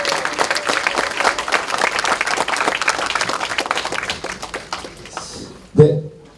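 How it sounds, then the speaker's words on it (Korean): Applause from an audience at an author's book concert, a steady dense round of clapping that fades out near the end, followed by a brief close thump. "큰 박수로 좀 긴장을 좀 풀어주십시오."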